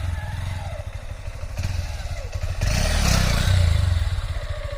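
Honda CB200X motorcycle riding over rough ground, its engine droning steadily up close with clattering and scraping, growing louder and busier after the halfway mark.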